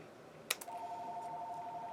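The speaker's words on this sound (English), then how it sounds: "I apologize for the phone ringing" A phone rings inside a home craft room, one short bright ring burst followed by a steady electronic tone that holds for over a second, heard at moderate level in a quiet room.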